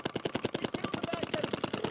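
Paintball markers firing in rapid, evenly spaced bursts during a pro NXL tournament match in Ohio, a steady string of sharp pops at moderate distance with little talk.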